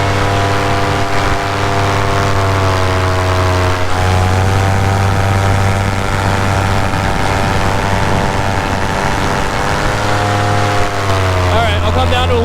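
A paramotor engine drones steadily and loudly close by while in flight, its pitch dropping slightly as the throttle is eased toward idle, with someone talking over the engine noise.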